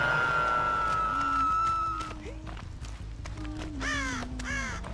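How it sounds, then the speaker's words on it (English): Crows in the Dead by Daylight video game give several harsh caws, close and clear, over a steady low ambient drone with a few rising game tones. "Shoo, crows."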